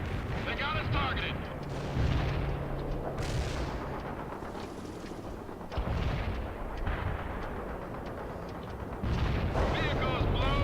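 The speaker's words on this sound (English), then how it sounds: "The Spetsnaz teams are calling in artillery on your position, Captain." Artillery fire in the video game World in Conflict, Soviet Assault campaign, with dense rumbling barrages and booms running under steady radio-style voices throughout.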